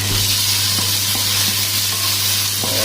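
Ginger garlic paste sizzles steadily in a pan with golden brown onions, a constant close frying hiss with faint scraping stirs, two spoonfuls cooking for a carrot potato curry.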